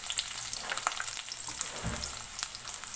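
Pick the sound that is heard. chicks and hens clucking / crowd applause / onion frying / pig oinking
onion frying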